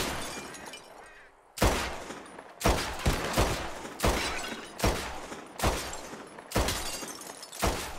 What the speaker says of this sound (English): Who can shoot the most bottles? Just draw your gun and aim when you're ready